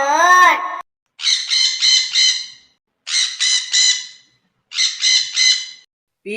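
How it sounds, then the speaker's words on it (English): A parrot squawks loudly and close, in three separate bursts, each made of three or four harsh, rapid cries, with a short vocal sound before them. "P for parrot."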